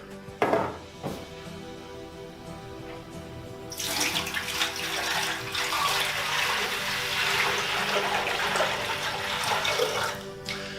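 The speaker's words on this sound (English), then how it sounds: "you're going to want to fill the Sirena up to the minimum level with water" Water pours steadily from a tap into the water basin of a Sirena vacuum cleaner, starting after a few seconds of quiet clatter and running loud and continuous to the end.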